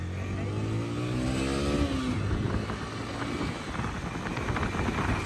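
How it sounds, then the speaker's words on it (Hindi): Motorbike ridden slowly along a road, its engine drone steady and close with a brief rising whine partway through, continuous rumble and wind noise for the whole stretch. "स्लो स्लो बाइक चलाते हैं।"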